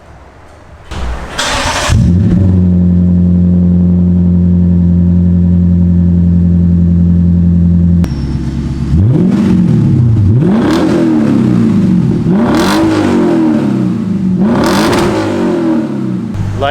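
A loud straight-piped Lexus engine cranks and catches, idles with a deep rumble, then revs up and down repeatedly in harsh, raspy bursts.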